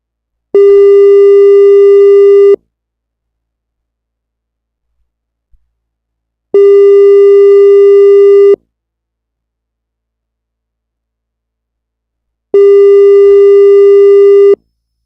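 Telephone busy signal on a failed callback: three steady tones, each about two seconds long, separated by roughly four seconds of silence, clear and close with no talking.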